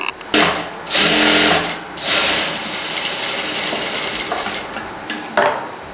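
Sewing machine stitching a dart on a blouse for a skirt or lehenga, running in several loud bursts with brief pauses between, close up and alone.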